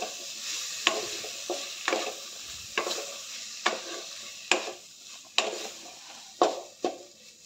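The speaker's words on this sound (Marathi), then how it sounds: "वांग्याच्या फोडी घालून मिक्स करून घेऊया सर्व." Brinjal pieces stirred in a pan for a vegetable dish, a spatula scraping and tapping at a steady rhythm of about one stroke per second over a soft sizzle, close and quiet.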